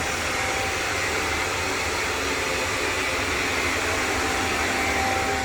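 A Robit R7S robot vacuum whirs in a constant, dense, airy hum, near and unchanging throughout, with no talking.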